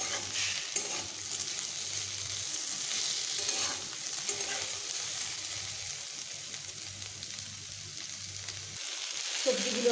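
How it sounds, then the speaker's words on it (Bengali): Mixed vegetables and tomato fry in a pan for several seconds, a continuous moderate sizzle with occasional stirring scrapes and a small clatter right at the close, no voices over it. "এবার আমি আরও একটু ভালোভাবে ভেজে নেব"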